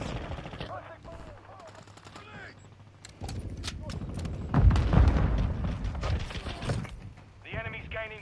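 Automatic weapon fire in Call of Duty Modern Warfare II, bursts of rapid shots and a heavy boom under radio-style voice callouts, with a louder close volley midway.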